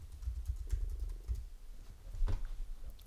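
Light, quiet taps of a computer keyboard as a message is typed, a few soft irregular clicks against a faint background hum.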